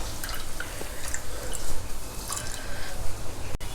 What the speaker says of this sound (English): This time also squeeze out the coconut milk by pressing it down like this.